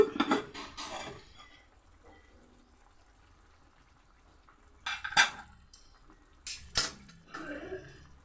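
A metal lid clatters as it is lifted off a cooking pot of simmering vegetable curry, with a couple of sharp clinks and scrapes at the start and again near the end, quiet between them.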